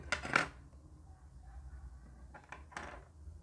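Scissors snip through skin-coloured yarn during amigurumi doll crocheting: one short, crisp cut near the start, then a couple of fainter clicks of the blades later, all quiet and close with no talking.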